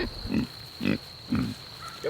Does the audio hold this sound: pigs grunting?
yes